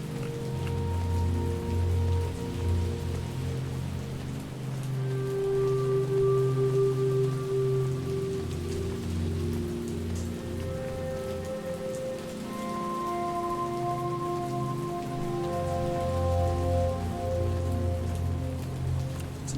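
Steady rain pours throughout a scene in the game How We Know We are Alive, a dense, even hiss of drops on surfaces, with a soft sustained music tone drifting underneath and no talking.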